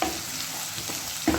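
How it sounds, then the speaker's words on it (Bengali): Dry red chillies frying in hot oil with long-sliced garlic, giving a steady close sizzle throughout with a brief stirring clatter near the end. "তাই শুকনো লঙ্কাটা দিয়ে দিয়েছি।"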